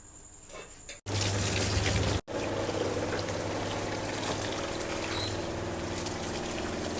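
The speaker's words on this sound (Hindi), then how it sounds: "तो बैगन धो लूँ मैं" Tap water runs steadily into a sink while eggplant is being washed, a loud continuous rush after a brief pause, with a short break in the middle and no talking.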